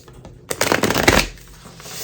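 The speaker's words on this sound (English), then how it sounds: "I'm going to do 3 shuffles and 3 cards for each one" A deck of tarot cards is shuffled in a quick, close burst of riffling and flapping that lasts about a second and a half after a quiet start, then trails off, with no talking.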